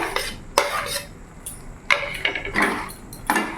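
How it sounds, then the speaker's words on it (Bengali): A spoon scrapes and clatters against a pan as fried potatoes are stirred into a pea and paneer curry, giving several distinct bursts of stirring with short pauses between them, close and clear with no talking. "আমি আরও ভালো করে নাড়াচাড়া করে নেব"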